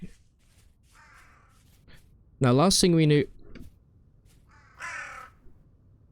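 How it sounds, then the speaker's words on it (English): A flock of about twenty crows in Vintage Story gives loud, harsh caws: one scattered call, a strong double burst in the middle, then another near the end, with a voice speaking briefly over the quieter stretches. "extreme amount of crows here"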